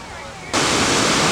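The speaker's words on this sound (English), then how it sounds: "there are several small waterfalls." Small waterfalls on the Presque Isle River in Michigan, a loud, dense, steady roar of falling water that cuts in abruptly after a quieter moment and continues without letup.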